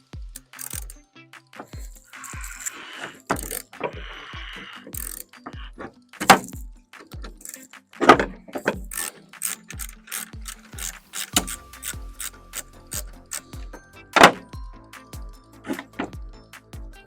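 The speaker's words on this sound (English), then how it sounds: "We're gonna start first by trying to get the wiper motor off." Rapid ratchet clicks come in short bursts as a wrench works the wiper motor bolts on a Toyota Tacoma, close and crisp, with several louder metallic knocks between the runs of clicking.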